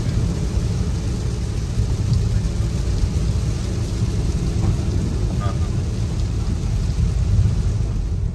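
Steady rain falling outdoors, a dense even hiss with low rumbling underneath, continuous and fairly soft, with no voices standing out.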